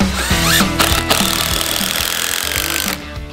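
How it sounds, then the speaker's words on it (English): A power drill whirs loudly, its motor pitch shifting as it drives screws into wood, then cuts off near the end. "we're gonna drill it in right now"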